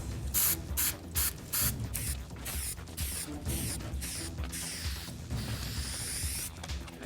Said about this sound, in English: spray it lightly on both sides of where you're going to be putting down